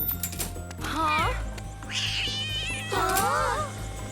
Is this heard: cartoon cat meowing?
yes